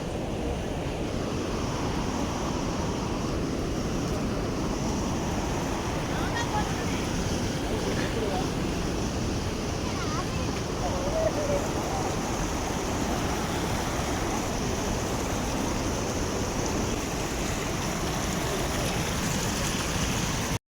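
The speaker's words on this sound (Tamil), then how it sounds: "கண்டிப்பாக தண்ணி வருது ரொம்ப." Continuous rushing rainwater flowing down a hillside, steady and loud throughout, with a windy, noisy texture.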